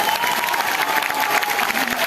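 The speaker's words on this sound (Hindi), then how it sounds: "एक बार जोरदार ताली हो जाएगी।" Audience at a product training session breaking into applause, a dense steady clatter of many hands clapping close by, filling the whole moment.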